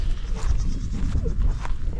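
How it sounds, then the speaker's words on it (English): Goats grazing a tall-grass pasture give off bleats amid steady low rumbling outdoor noise, moderately loud and continuous for a couple of seconds. "the goats are happy"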